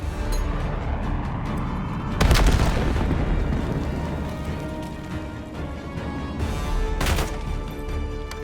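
Grenade explosion in the Call of Duty Black Ops 7 video game: a sudden heavy boom, then a second sharp blast a few seconds later, set against continuous loud game noise and distant gunfire-like cracks.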